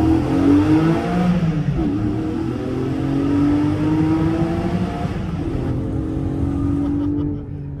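A Porsche 718 engine revs up through the gears inside a tunnel, loud and close with rising pitch sweeps, brief dips at the shifts and echoing resonance around the car.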